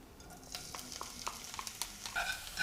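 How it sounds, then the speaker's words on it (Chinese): Shiitake mushrooms stir-fried in plenty of oil over low heat, with a close, bright sizzle and repeated scraping strokes of a spatula against the wok. "接着炒香菇，油多一点没有关系"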